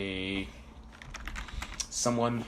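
Someone types a search word on a computer keyboard: a quick burst of light key clicks in the middle, with a person talking just before and just after.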